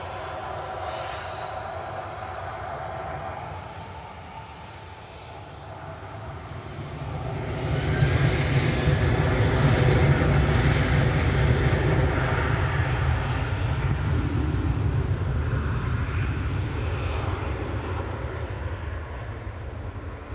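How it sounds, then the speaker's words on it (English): Airliner rolling out at Manchester Airport, its jet engines building from a steady distant roar to a loud, sustained rumble and whine that persists throughout without any talking. "CMT's plane just rolling out."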